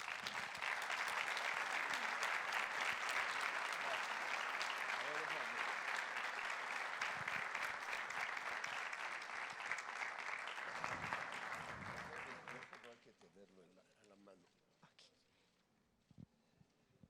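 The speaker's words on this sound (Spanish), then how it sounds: "les pido por favor que recibamos con un caluroso aplauso al señor Roberto Hernández Ramírez" An audience at a business forum opening ceremony gives warm applause welcoming Roberto Hernández Ramírez, dense sustained clapping for about twelve seconds before fading to scattered claps and a quiet room.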